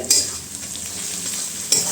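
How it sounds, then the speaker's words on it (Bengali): Onion fries in hot oil in a home kitchen, giving a steady close sizzle with soft stirring scrapes and a couple of sharper spatula clinks. "এই যে পেঁয়াজটা ভাজছি সবে"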